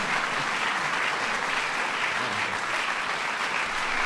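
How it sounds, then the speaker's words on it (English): Sustained audience applause at a formal White House honors ceremony, dense steady clapping from a large crowd filling the whole stretch without a break, no voices over it. "That's an applause line."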